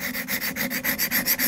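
A bull nose chisel is rubbed back and forth on a medium sharpening stone, making a close, steady, rhythmic scraping with about eight even strokes in quick succession and no voices.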